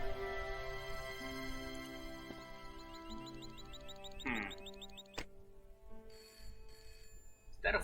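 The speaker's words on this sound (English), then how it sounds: "Is that a phone?" An old-style telephone bell rings in repeated bursts in the video game Broken Sword, sounding over a soft musical background at moderate volume.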